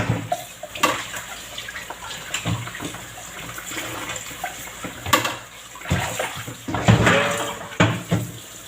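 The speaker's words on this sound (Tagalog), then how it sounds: "Hugasan natin maigi." A winter melon is washed under running water, with the tap's hiss running throughout. Irregular splashes and knocks from handling the vegetable come at several points, close and fairly loud, and there is no talk.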